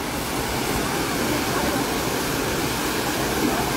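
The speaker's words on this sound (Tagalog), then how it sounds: "Malakas ang impact na tubig." A waterfall's heavy water crashes down in a steady, loud, broadband roar that fills the whole clip without pause, with no voices standing out above it.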